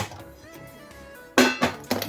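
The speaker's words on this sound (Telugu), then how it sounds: "స్టవ్ మీద ఒక ప్యాన్ పెట్టేసుకుందాం" A metal pan is set down on a kitchen stove with a sharp clank, then lighter knocks follow after a quiet stretch with a faint hum.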